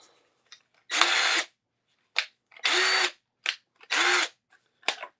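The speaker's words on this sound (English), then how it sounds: "everybody's favorite drill." A cordless power drill from a Ryobi or Ridgid battery tool lineup runs in three loud, steady bursts of about half a second each, with short clicks and handling noises between them and no talk.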